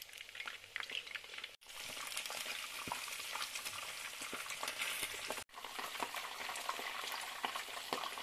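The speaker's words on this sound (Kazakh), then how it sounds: "қызып тұрған майға кезек-кезекпен салып қуырып алатын боламыз" Potato snacks on sticks deep frying in hot oil make a dense, steady crackle that runs throughout, with two brief cuts to silence.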